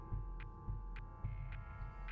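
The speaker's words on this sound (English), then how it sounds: "Do I still hear a heartbeat?" Heartbeat sound effect played during a Curse of Strahd tabletop role-playing session: steady, evenly spaced low thumps, close and fairly loud, over a constant background hum with no talking.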